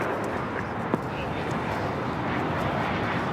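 A steady airliner engine roar at LAX on runway 25 right, a broad continuous rumble with radio chatter over it.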